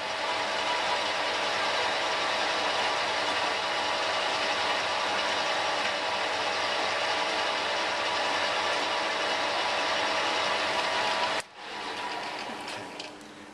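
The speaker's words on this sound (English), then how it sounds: "I'll drive the knurling tool into the workpiece and it will put that textured grip on." Centre lathe running with a knurling tool pressed into a metal workpiece: a dense, loud, steady grinding rumble that holds for about eleven seconds, then drops abruptly to a quieter motor whir.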